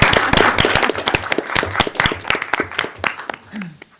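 Audience clapping at a county commissioners' meeting, a burst of close, fairly loud claps that thins out toward the end, with talking mixed in.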